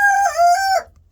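A single loud, close rooster crow rings out once, a rising then sustained call that fades after under a second, followed by quiet.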